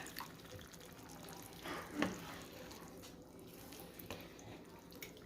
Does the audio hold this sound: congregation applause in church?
no